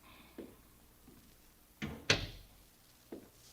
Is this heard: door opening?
yes